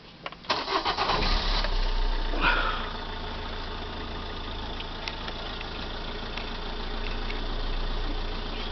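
A van engine restarting after being switched off, with the battery and inverter setup still connected: a brief starter crank catches into a steady idle that runs on evenly and close by, with no talking.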